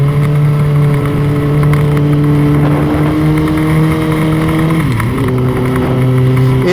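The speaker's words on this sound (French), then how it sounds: "on va attendre que la moto monte à température à peu près à 50-60 et après" A motorcycle engine idles steadily while warming up, a loud, constant close-up drone with a slight dip and recovery in pitch near the end and no one talking.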